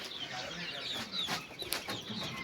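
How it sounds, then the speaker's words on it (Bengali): Chickens clucking in a cage on a small desi chicken farm, a few close, quiet clucks and squawks over a low background murmur. "এই দেখেন এইখানে কটা 15 পিস মুরগি রয়েছে"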